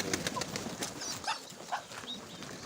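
Pigeons at a pigeon loft give soft, scattered coos and brief wing flutters, close by and fairly quiet, with no voices.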